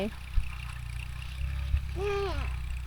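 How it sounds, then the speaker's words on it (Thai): A tractor engine at a rural rice field during harvest in Yasothon drones steadily with a low, continuous rumble, while voices talk over it. "ใส่รถไถ"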